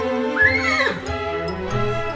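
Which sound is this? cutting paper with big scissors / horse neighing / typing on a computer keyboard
horse neighing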